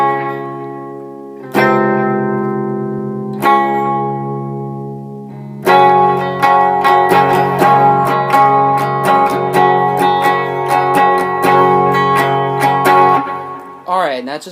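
Electric guitar plays the verse of a song, starting with a few sustained ringing chords, then a rhythmic run of picked, effects-laden notes with reverb, loud and alone.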